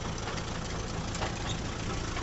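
Kubota 4501 tractor with a 45 HP diesel engine idling nearby, a steady dense rumble with a continuous knocking texture and no pause.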